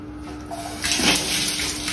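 Water splashes and gushes into a pot for cooking, a brief rushing pour that swells midway and then settles into a softer steady trickle against a quiet background hum.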